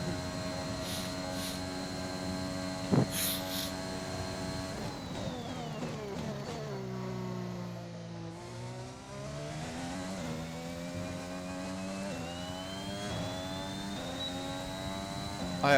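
F1 car engine from the F1 2021 racing game at Bahrain, a steady high-pitched whine that dips as the car slows and then climbs again under acceleration, heard alone and close.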